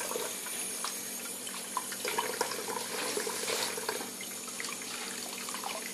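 Tap water running steadily into a small blown-out eggshell, a soft continuous trickle with faint splashy ticks, fairly quiet and close, with no talking over it.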